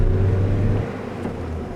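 A 2010 European Ford Fiesta pulls away on a drive through a park, its engine note rising as it accelerates with a steady low rumble and whir, fairly close and continuous, no talking.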